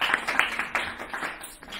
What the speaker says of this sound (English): So, big applause for you all who came